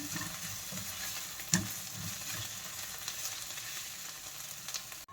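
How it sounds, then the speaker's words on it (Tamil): Masala for a prawn dish sautés in a pan, a continuous close sizzle and crackle with occasional stirring scrapes and one sharp clink, no talking. "இதையும் போட்டு இப்போ நம்ம வந்து நல்லா கலரி விட்டுடலாம் இன்னும் கொஞ்சம் நேரம் வதங்கட்டும்"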